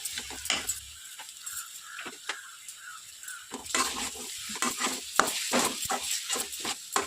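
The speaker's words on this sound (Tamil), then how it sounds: "அது வரைக்கும் கலரிக்கினே இருக்க கைவிடாமல்" Vadakari mixture stirred in a pan, with repeated scraping and clattering strokes of a spatula against metal over a soft sizzle, heard close up in an irregular rhythm and without talk.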